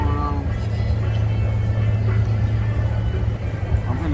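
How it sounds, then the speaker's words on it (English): Drag racing cars at I-30 Drag Strip produce a heavy, sustained low engine rumble heard from a distance, steady across the few seconds with crowd and voices murmuring faintly over it. "they got real racing going on"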